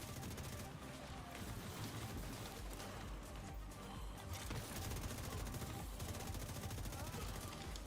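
Rapid SIG rifle gunfire in The Division 2 during a heroic PvE fight, dense sustained bursts of shots over a continuous loud wash of game action and effects.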